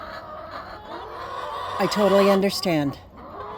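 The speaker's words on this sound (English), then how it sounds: "Let's check the soggy chickens out." Soggy backyard hens clucking near their coop at feeding time, a burst of loud rising squawks and clucks close by over a background of soft chatter, with a person speaking briefly.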